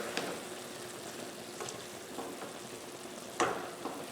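Butter sizzles in a pan with ground bison and vegetables: a steady, moderate frying hiss with occasional sharper crackles and stirring scrapes, one louder burst near the end.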